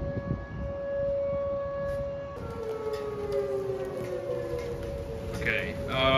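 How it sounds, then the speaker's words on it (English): Tornado warning sirens wailing outdoors during a severe storm, steady long tones that then slide downward, moderately distant, with faint background noise. "Tornado sirens going off."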